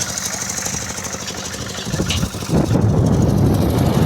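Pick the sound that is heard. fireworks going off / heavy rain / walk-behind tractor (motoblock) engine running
walk-behind tractor (motoblock) engine running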